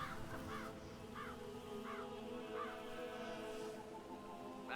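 Crows cawing in the Hitman: World of Assassination video game, a series of evenly spaced harsh caws repeating about every second over a steady ambient hum, fairly faint and without talk.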